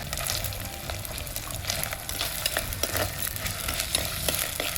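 Small shallots fry in hot oil with a dense, continuous crackling sizzle and scattered sharp pops, stirred now and then, close and fairly quiet with no voices.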